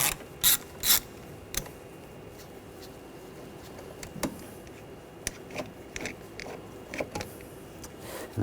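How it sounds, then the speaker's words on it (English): A ratchet fitted with a T25 socket backs screws out of a 2013-2019 Ford Escape during O2 sensor replacement, giving short bursts of clicking separated by pauses, close and fairly quiet with no talking. "we're going to take these two screws out."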